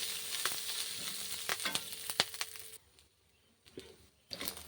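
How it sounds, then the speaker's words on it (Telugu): Green chilies sizzle and crackle in hot oil for a cucumber chutney, loud bursts of popping and spattering with stirring, then a brief quieter lull before the frying noise returns. "పచ్చిమిర్చి కూడా ఫ్రై అయిపోయింది"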